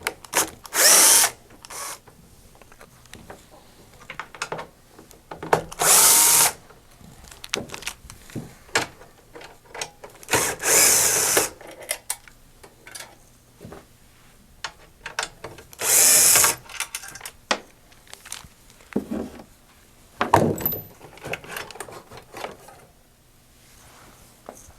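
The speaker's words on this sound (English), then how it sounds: "using a T20 Torx bit, we're going to remove 2 screws on each side" A power driver fitted with a T20 Torx bit whirs in several short bursts, removing screws from each side of the blower box on a Phoenix DryMAX dehumidifier, loud and close, with gaps of handling noise between runs and no talking.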